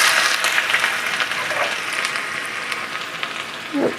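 Chopped ginger hits hot coconut oil with popped mustard seeds and fries in a loud, continuous hiss, close up, with faint stirring scrapes near the end and no voices.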